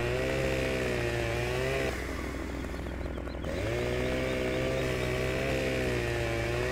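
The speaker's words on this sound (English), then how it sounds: "This chainsaw is doing a very fast cut" A chainsaw in the video game Farming Simulator 17 cuts through wood, its engine whining loudly and steadily, dipping briefly in pitch mid-cut before revving back up.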